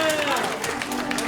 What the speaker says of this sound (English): And with a round of applause for number 4.